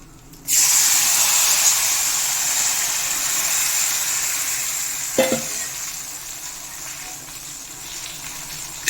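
Thick tamarind water poured into hot tempering oil with chillies, bursting into a loud sudden sizzle that hisses steadily and slowly fades, with a brief stirring clank midway.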